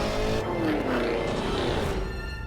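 Supercharged 6.2-liter V8 of a Cadillac Escalade V-Series revving hard, a loud continuous engine roar whose pitch climbs and drops as it pulls through the gears, steady and without talking.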